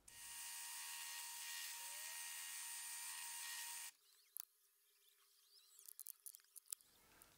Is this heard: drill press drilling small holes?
yes